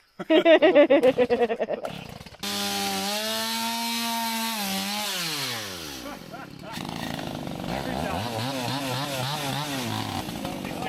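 Chainsaw fitted with a freshly sharpened chain cutting through wood at an off-grid cabin after storms: a loud revving burst, then a sustained steady cut with the engine pitch sagging under load and rising again, close by.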